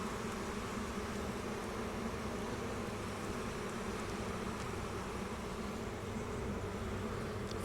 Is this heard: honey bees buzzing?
yes